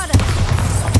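A Bombarda blasting spell cast in Hogwarts Legacy: a short explosive boom with low rumble, followed by a second burst near the end, amid game sound effects.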